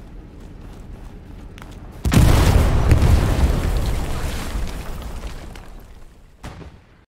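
A heavy explosion in the World War II shooter game Hell Let Loose hits with a sudden loud boom, followed by a long rumbling decay. A fainter thump comes near the end.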